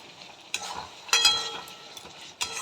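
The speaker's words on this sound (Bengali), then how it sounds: "দেখো দিয়ে দেবো চিংড়ি মাছ" Prawns tipped into a frying pan of jackfruit curry give soft stirring and sizzling, with louder bursts as they land and are turned, fading between movements.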